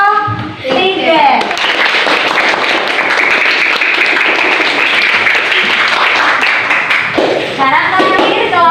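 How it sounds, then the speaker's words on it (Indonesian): A classroom group claps loudly for a presenting group of students, a dense burst of applause lasting several seconds, with voices talking just before and after it. "Beri tepuk tangan untuk kelompok"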